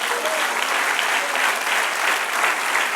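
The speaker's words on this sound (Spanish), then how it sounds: "Dale un aplauso al Señor." A church congregation applauds during a Spanish-language service, a steady wash of many hands clapping at full strength throughout, close and dense, with no pauses.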